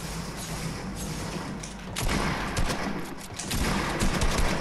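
Gunfire in Fortnite during a Prop Hunt match pops in scattered, muffled bursts that grow louder halfway through, with a few dull thuds among the shots.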